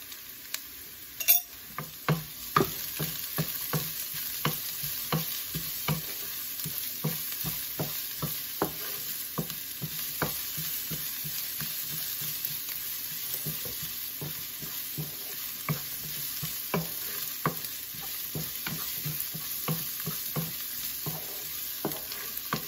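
Onions fry over medium heat with a little salt, sizzling steadily while a utensil scrapes and stirs the pan in regular, repeated strokes for over twenty seconds, with no voices.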